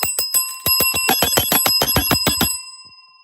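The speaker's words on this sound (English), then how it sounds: "Had to bring the bell back for y'all." A bell struck by hand about a dozen times in quick succession, each ring bright, loud and close, then the last strike fading out into silence.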